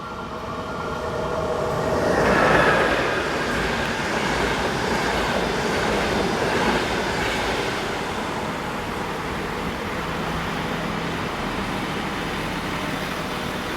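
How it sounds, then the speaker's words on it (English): Three coupled Class 5022 diesel multiple units running empty toward Graz on the Semmering railway, a broad rushing rumble that swells as they pass close by, then settles into a steady distant roar. "Running empty to Graz are these 3 Class 5022 diesel units"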